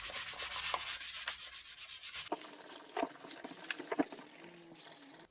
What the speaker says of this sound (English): For sanding, I'm going to use 400 gradation sanding pads.